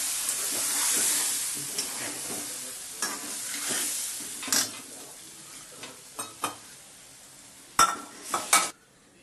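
Urad dal tipped into a pan of fried chillies and stirred, giving a steady sizzle with scraping spoon strokes and a few sharper clinks near the end, close and alone without talk.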